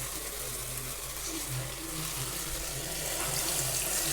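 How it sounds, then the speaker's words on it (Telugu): Water being poured into a pot of vegetable khichdi, a steady close pouring and splashing that runs evenly throughout with no talk over it. "మనం వాటర్ పోసుకోవాలి"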